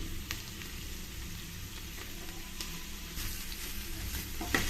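Chopped dill leaves fry in a pan with a soft, even sizzle and light stirring scrapes, fairly quiet and continuous with no talking.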